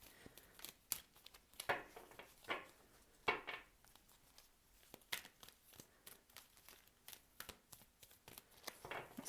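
Large tarot cards are shuffled by hand close up, giving repeated soft papery riffles and slaps in an uneven rhythm, quiet and alone.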